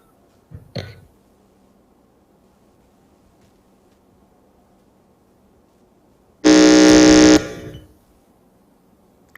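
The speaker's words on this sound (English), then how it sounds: "Your buzzer sounded out before the time up, so I'll give you the opportunity to answer." A quiz contest answer buzzer at a junior high school regional qualifier gives one loud, steady electronic blast of about a second, with a brief thump a few seconds earlier and no talk over it.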